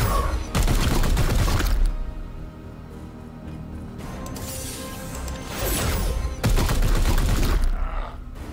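Bursts of heavy gunfire and explosive impacts in the tactical game Chaos Gate: Daemonhunters, loud rattling volleys separated by a quieter mechanical lull, with no talk.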